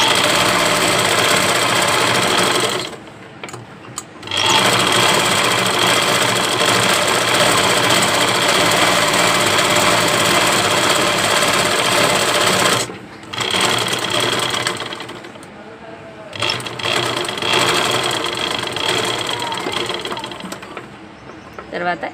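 A sewing machine stitches around invisible thread piping, running steadily and close by in long bursts separated by two brief pauses.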